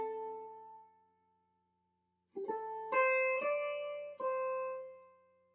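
Clean guitar plays the opening phrase of a jazz standard: a sustained note fading out, a pause, then four picked notes ringing into each other, close and alone.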